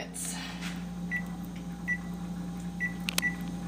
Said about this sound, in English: Now I'm just gonna put in the microwave